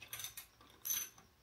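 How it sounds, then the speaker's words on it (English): A 13mm spanner ratchets on a nut of a DIY CNC plasma cutter, with a few quick, faint metallic clicks and a short scraping burst close by. "Find your 13mm spanner. You need to make sure that the bottom nut goes tight as well as the top."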